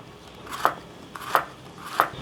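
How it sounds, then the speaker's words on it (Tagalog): Knife slicing a salted egg thinly on a cutting board, three crisp, evenly spaced cuts in a quiet kitchen, close and fairly soft. "Lalagyan natin ng itlog na maalat. Hiwain natin ng maninipis."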